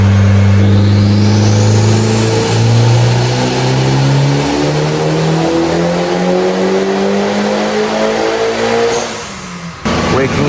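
A Mitsubishi Evo on a stock block with an AGT 64mm turbo roars through a dyno pull, its engine note climbing steadily in a loud, sustained rev before cutting off abruptly near the end.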